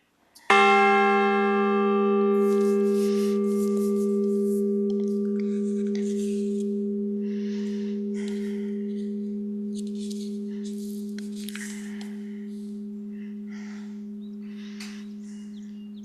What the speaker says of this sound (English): to record the Fiddler's Reach fog bell.